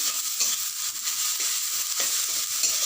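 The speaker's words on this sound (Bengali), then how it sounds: "টমেটোটা একটু নুন হলুদ দিয়ে দিলাম, দিয়ে একটু নাড়িয়ে ওটাকে নরম করতে হবে।" Chopped tomato with salt and turmeric frying in a pan while being stirred, a steady bright sizzle with soft scraping strokes of the spoon repeating through the moment, no voices.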